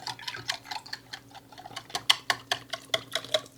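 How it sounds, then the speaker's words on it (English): Rapid metal whisk clicks against a bowl while chocolate donut cake batter is stirred, a steady run of sharp, close ticks and scrapes with no talking. "I'm just going to whisk this up"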